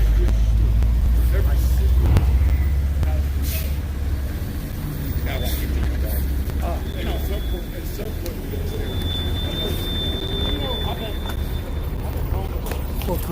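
A garbage truck works on a city street during a homeless sweep in Denver, a heavy low engine drone with clanks and knocks, alongside scattered voices and other street noise.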